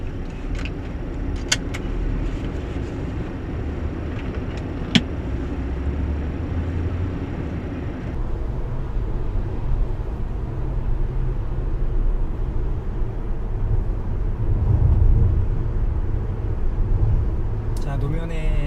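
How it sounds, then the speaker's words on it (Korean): Steady low road rumble and tire friction noise fill the cabin of a moving Tesla Model S, a continuous broadband roar that grows slightly louder later, with a brief click and occasional faint rattles. "노면의 소음들이 그대로 올라오기는 하는데요. 이건 뭐 타이어와의 마찰 음들이고요. 정상적인 소음입니다."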